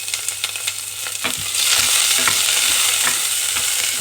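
Food frying in hot oil in a pot for Togolese chicken with coconut, a steady loud sizzle that swells midway, with scraping stirs and clatter near the utensil, no voices.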